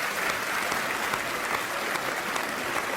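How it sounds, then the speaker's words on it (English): Loud, sustained applause fills the hall at the 49th annual TV Week Logie Awards television ceremony in 2007. The clapping stays steady and close throughout, with no one speaking over it. "They all deserve an enormous round of applause."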